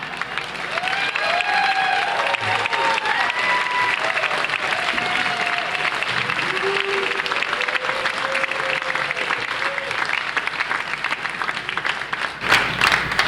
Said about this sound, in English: I really do appreciate the applause